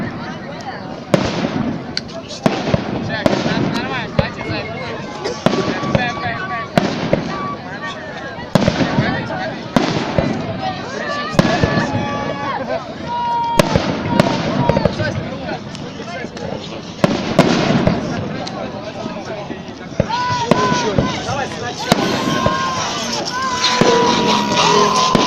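City day fireworks over the riverside in Voronezh: repeated sharp bangs and crackling bursts spread across the whole span, some loud, some distant, with people talking and shouting throughout.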